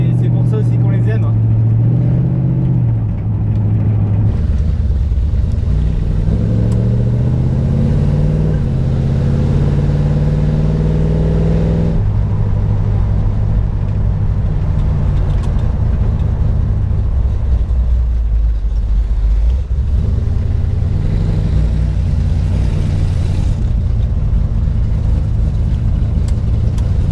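1972 Chevrolet Chevelle muscle car with a 327ci V8 rumbling at low speed, its deep exhaust note rising and falling with revs, loud and close, with someone talking over it.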